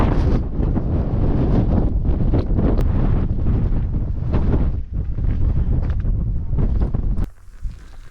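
Strong wind on a clifftop along the South Downs Way near Beachy Head, buffeting the microphone in loud roaring gusts that rise and fall, then easing briefly toward the end, with no talking.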